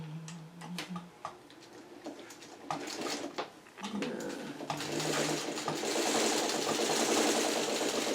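A sewing machine stitches a quarter-inch seam around a machine-appliqué Churn Dash quilt block, starting with short bursts of rapid stitching and then running steadily and loudly for the second half.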